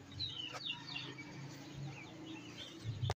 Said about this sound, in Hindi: कबूतर आ गया था चने खाने के लिए